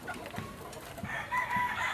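A rooster crows in a drawn-out call rising near the end, mixed with clucking chickens nearby, moderately loud against farmyard background noise.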